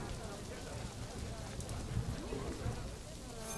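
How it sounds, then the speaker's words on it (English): Steady rainfall in the Planet Zoo management game pours as a continuous broadband hiss and patter, constant and fairly loud throughout with no gaps. "I would really like the rain to stop"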